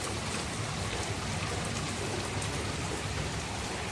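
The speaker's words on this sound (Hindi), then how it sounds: "तेज़ की बारिश आ गई है" Heavy monsoon downpour pouring steadily onto a home's surroundings, a dense, continuous roar of rain at constant loudness throughout, with no talk.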